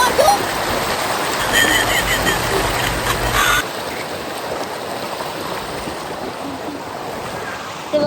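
River water rushes and splashes steadily throughout, a broad, continuous wash that stays fairly loud the whole time, with a low rumble in the first half that drops away partway through.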